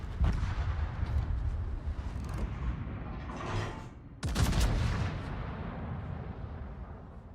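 Battleship guns fire in World of Warships, with rolling booms of shells striking a heavily armored battleship and one sharp, loud blast of impact midway, followed by a fading rumble.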